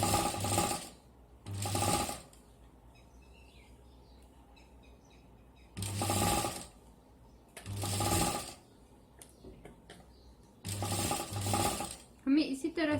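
Sewing machine stitching pom lace onto a hanger, running in several separate bursts of rapid mechanical whirring with quiet pauses between them, close and fairly loud.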